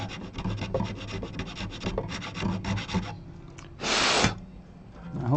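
Steady rasping strokes of fine abrasive sanding a Takamine guitar nut, quick back-and-forth rubbing, then a pause and a brief louder, smoother burst.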